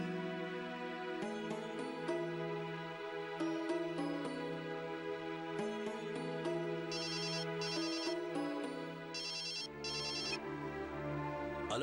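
A melodic mobile phone ringtone for an incoming call plays steadily and fairly loud, a looping electronic tune with bright chiming notes running continuously with no talk.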